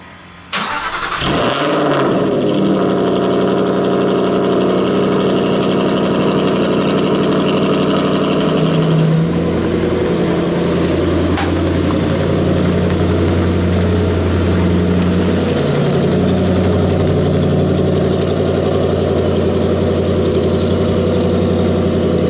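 An Aston Martin GT8 fires up with a sharp starter catch and a loud rev flare, then settles into a deep, steady idle with a few minor shifts in pitch, heard close up and with no talking.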